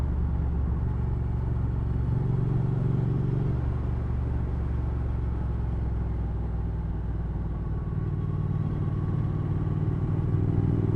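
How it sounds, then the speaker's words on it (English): A Triumph Thruxton R's exhaust pipes burble while riding, a close, steady low rumble with slight shifts in pitch as the throttle varies, heard alone without talk. "it's quite happy just to sit and listen to the sound of the exhaust pipes"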